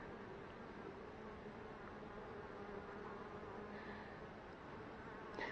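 Bees buzz around bananas, a faint, steady insect drone that hangs at low volume throughout, with no voices and a slightly louder rustle right at the end.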